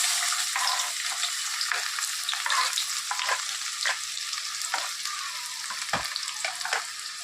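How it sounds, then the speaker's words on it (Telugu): Onion pieces dropped into hot oil for a mutton curry, giving a continuous bright sizzle with occasional pops and stirring clicks, close and steady throughout with no talking. "నూనె మరిగింది, ఉల్లిపాయ ముక్కలు వేసుకుంటున్నాను."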